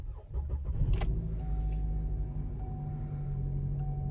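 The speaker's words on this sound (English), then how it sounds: "Turn the car on." A 2013 Chevrolet Malibu with the 2.5L engine cranks and starts with a brief starter whir and a sharp catch, then settles into a steady, close idle hum.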